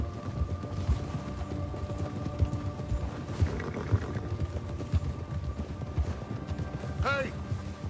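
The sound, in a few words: horses trotting, from video game Red Dead Redemption 2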